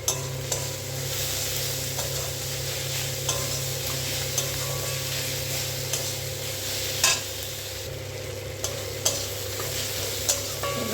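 Tomatoes with salt and turmeric sautéing in a pan, a steady close sizzle under repeated scraping stirs of a spoon against the metal, with a few sharper clinks along the way.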